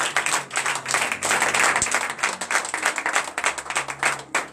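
A congregation at a morning prayer in Benin claps and cheers in a dense, lively stretch of applause with overlapping voices.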